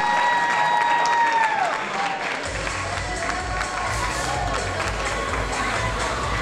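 An audience at an OCB men's bodybuilding awards show applauds and cheers loudly and continuously. A high whistle cuts through early on, and the crowd keeps a steady roar throughout.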